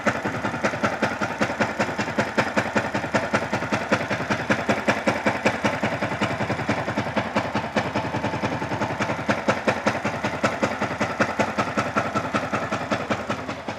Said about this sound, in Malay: So sekarang ni kita bagi motor untuk kita running dulu.